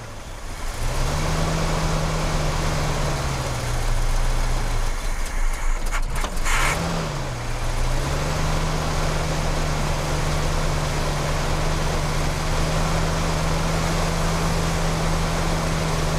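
A 1969 Cadillac Fleetwood V8 idles steadily and close up, with one short rev blip partway through before it settles back to an even idle. No one speaks.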